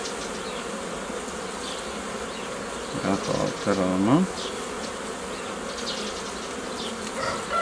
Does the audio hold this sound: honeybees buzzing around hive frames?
yes